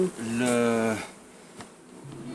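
Buckfast honey bees give a loud, close buzzing drone for about a second, then a fainter hum lingers in the background.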